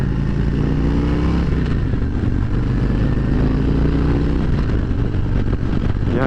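A 2023 Harley-Davidson Road Glide Special ridden in first gear, its V-twin engine rumbling loud and close with the pitch rising and falling as the throttle opens and eases, wind noise underneath.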